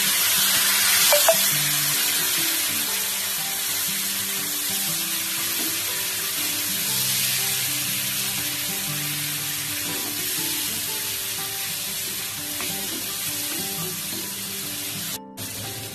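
Ground coriander and hot chilli powder fry in oil with a splash of water added, giving a loud, continuous sizzle and hiss that runs throughout with no talking.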